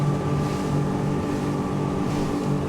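A Virtue V10 motor boat cruises at about 44 knots near 5,850 RPM, its engine drone steady and loud, layered with rushing water and hull noise, with no voices.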